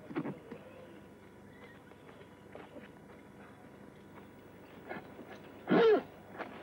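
Faint hoof thuds and shuffling steps in a quiet outdoor setting, followed by a single loud, close horse whinny near the end.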